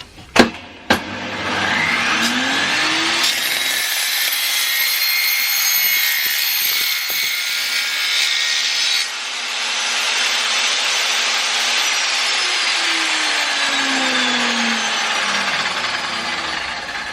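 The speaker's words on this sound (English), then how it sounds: "Cut the two sides from the strip wood." Power saw cutting through strip wood, a loud steady whine running almost the whole length with a brief break midway, opening with a couple of sharp knocks.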